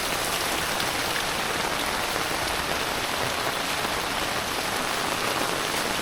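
Heavy rain pours down steadily in Laos, a dense, loud, continuous hiss of drops striking surfaces with no pauses and no voices.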